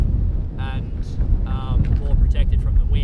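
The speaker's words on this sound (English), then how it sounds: "It's still pretty windy" Strong gusty wind at an anchorage on a sailing boat in Asia buffets the microphone with a low roar, while bursts of speech come through over it.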